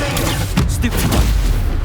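The Incendio fire spell goes off in Hogwarts Legacy as a loud, booming burst of flame with rushing whooshes and rumbling impacts packed into a couple of seconds.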